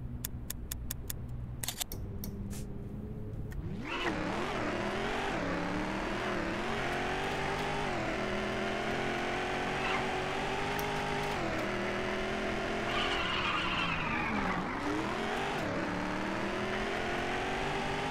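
Race cars in the video game Gazolinas roar around the Eurobergen Ring track, with loud engines revving and shifting through rising and falling pitch sweeps, continuous and close, after a few brief clicks at the start.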